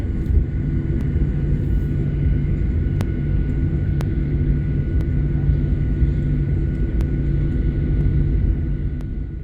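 A Norwegian Air airliner takes off in darkness, heard from inside the cabin as a constant heavy engine roar and rumble with faint sharp clicks over the top, no voices.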